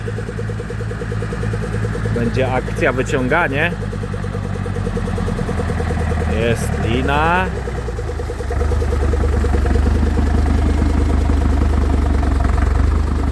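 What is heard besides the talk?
tractor engine arriving to pull out a stuck vehicle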